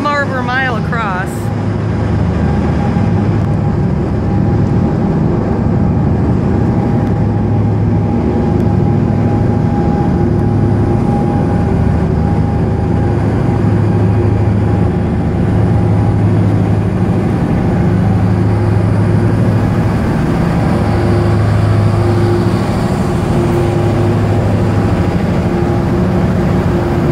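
Constant loud low engine drone and rumble of a car ferry crossing to Drummond Island, heard from the deck, with a steady tonal hum running unbroken throughout and no talk.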